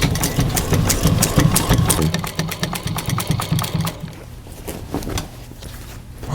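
Sewing machine top stitching denim jeans, a steady mechanical motor whir with rapid needle ticking running continuously throughout, loud and close.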